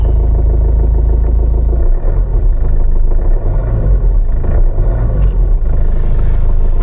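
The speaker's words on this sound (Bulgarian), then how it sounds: "Колата пали много меко. Работи много приятно." A 2013 Kia Ceed 1.6 CRDI diesel engine idles with a deep, steady rumble and light mechanical clatter, heard up close and loud, with the low drone shifting slightly partway through.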